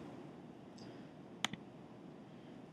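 A quick pair of mouse clicks while working in Geometer's Sketchpad geometry software, faint and close against a soft background hiss, with no talking.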